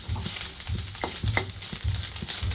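Flattened rice with grated coconut is stirred in hot oil, giving a soft continuous sizzle punctuated by repeated scraping knocks of the spoon against the pan in an uneven rhythm, close and fairly loud.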